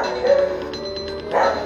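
A dog barks a couple of times in the background, muffled and moderately loud, behind a steady room hum during a Pokémon game session.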